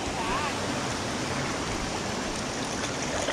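The Savin waterfall and its stream pour in a steady, broadband rush. The roar is constant and fairly close, with no breaks and no talking audible over the water.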